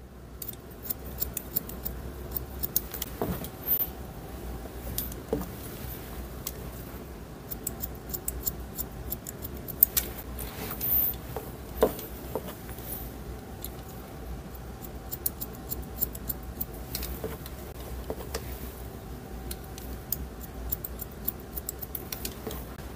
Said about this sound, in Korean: 계속해서 전대각 바팅을 해서 잘라줍니다